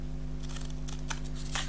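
Short, crisp snips of scissors cutting paper for scrapbook tags, a few quick cuts over a low steady hum, close by and fairly quiet.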